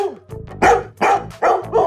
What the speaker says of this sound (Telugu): ఏంటండి మీ కుక్క గోల?